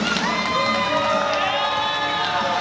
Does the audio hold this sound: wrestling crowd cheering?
yes